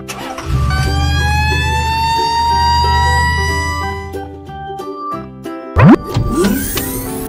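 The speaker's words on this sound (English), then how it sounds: "Red fire truck." A toy fire truck sounds a siren whose rising, wailing electronic tone plays over a low motor-like hum. It stops abruptly and is followed by cartoonish plop and boing effects.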